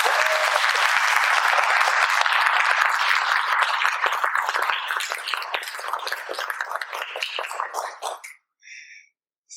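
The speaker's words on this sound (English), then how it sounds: "So let's give Kate a round of applause." Audience applause at the close of a talk at a professional association event, dense and loud for about eight seconds before thinning into a few scattered claps and fading out.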